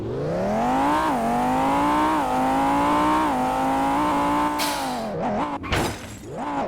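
A car in the Driving Empire racing game revs hard with no real idle, its engine note rising and falling in steady surges, loud and close, before breaking into choppy bursts and crunching impacts near the end.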